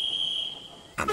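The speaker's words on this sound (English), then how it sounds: "The guard blew the whistle" A train guard's whistle gives a steady, shrill, piercing tone for about a second, then cuts off into a brief louder burst of noise.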